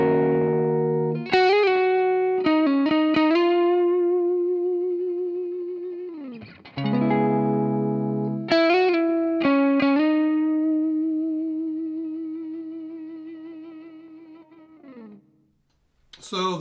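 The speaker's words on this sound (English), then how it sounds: "So if you're into fuzz, both these pickups are good for that." Electric guitar with Novo Serus Athena pickups, Gold Coil neck pickup, played through fuzz: thick sustained distorted notes and chords, each ringing out and fading over several seconds, loud and alone.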